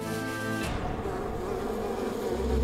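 Swarming bees drone in a steady, close buzz through the whole stretch, preceded by a brief tonal hum at the start, during a Fear Factor stunt challenge; nobody speaks.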